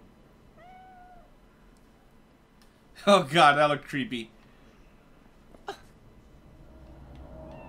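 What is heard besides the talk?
cat meowing in video game Cyberpunk 2077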